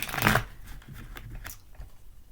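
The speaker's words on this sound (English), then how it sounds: "I'm going to go ahead and shuffle these cards a little bit." Tarot cards are shuffled by hand: a short, loud riffle at the start, then softer shuffling and sliding sounds close by.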